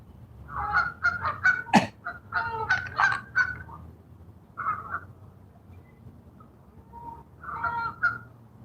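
Two geese honking in loud, repeated bursts nearby, with wing flaps between the calls and a quieter pause before a final round of honks outdoors at the water.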